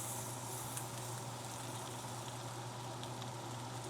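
Steak searing in a carbon steel pan gives off a steady, quiet sizzle with a constant low hum beneath it. It holds an even level the whole way through, with no one talking.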